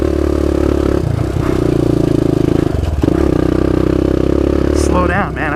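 An off-road vehicle on a trail holds a loud, steady engine drone that dips and shifts pitch as it changes gear into third, with rattling and scraping close by and a voice near the end.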